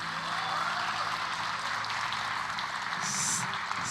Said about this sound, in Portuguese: Vamos dar uma salva de palmas a esse casal